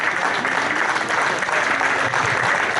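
Audience applause at the awards for a fishing tournament, the 2016 T.O.C. Loud, steady clapping from a crowd fills the whole stretch without a break.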